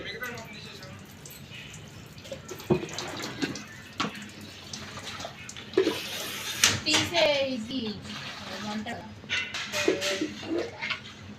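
Water runs steadily while a gas stove is washed at home, with a child and other people talking over it most of the time.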